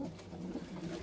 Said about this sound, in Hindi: और ये हमारा दुआज कबूतर